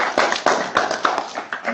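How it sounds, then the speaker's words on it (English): A handful of attendees at a macroeconomics conference in Tilburg clap briefly, sparse distinct claps in an uneven rhythm, close and fairly loud, with talk running alongside. "they deserve a little round of applause."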